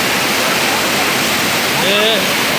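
A waterfall rushes loudly and steadily, a dense roaring hiss filling the whole clip, with a brief faint voice-like sound near the end.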